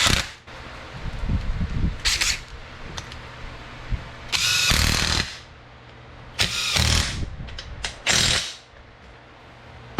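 A wrench clicks and ratchets in repeated bursts while bolts are torqued on a 421cc Banshee engine, close up in a workshop with brief pauses between strokes.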